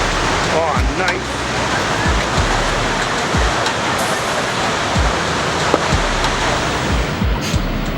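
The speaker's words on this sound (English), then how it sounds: "let's see if we can take off and see the waterfalls" Waterfalls in Iceland near Reykjavik pour in a constant broadband rush of falling water. The roar is loud and unbroken and fills the whole scene.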